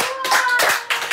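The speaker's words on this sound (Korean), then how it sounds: "박수." Several people clap hands together in an outdoor setting, a quick burst of bright, dense applause with short pauses, close and loud, with no voices over it.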